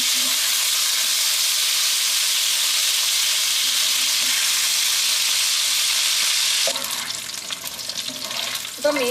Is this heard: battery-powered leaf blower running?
no